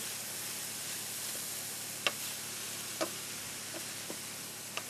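Vegetables stirred in a hot pan give a steady, fairly quiet sizzling hiss, broken by a few soft, sharp ticks from the utensil.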